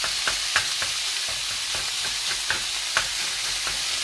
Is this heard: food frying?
yes